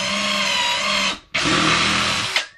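A power drill drilling into wood for a birdhouse whirs loudly in two sustained bursts separated by a brief pause, its high-pitched motor grinding steadily.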